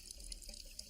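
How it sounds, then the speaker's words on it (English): A sink faucet runs freely with no clogs, a faint, steady hiss of flowing water with small splashy flickers, heard alone and at a low level. "That sink's working pretty good, isn't it? Uh-huh. Water's running freely"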